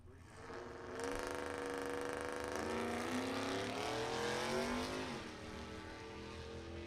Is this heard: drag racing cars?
yes